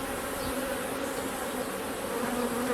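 Honey bees buzzing during a hive inspection as brood frames are checked, a dense, steady drone of many wings close by with no pauses.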